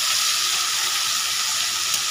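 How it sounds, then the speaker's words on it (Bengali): Rohu fish pieces fry in hot oil, giving a steady, bright, crackling sizzle that stays loud and even throughout, close up and with no voices over it. "এভাবে এপিট ওপিট করে আমি ভেজে নেব মাছটাকে।"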